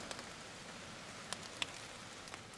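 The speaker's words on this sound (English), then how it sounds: "Here comes the rain." Rain begins falling in a forest, a steady soft patter with a few sharper drops landing nearby, no voices.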